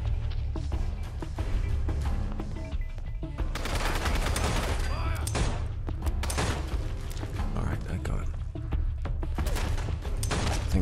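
Video game gunfire in Fallout London, set in Camden Town: a dense, loud stream of rapid shots and bursts over a deep rumbling bed, with a person talking at times.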